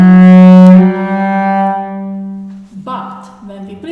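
Cello bowed normally, producing a full, rich sustained note that holds steady for several seconds before a second bow stroke with a brighter, scratchier attack.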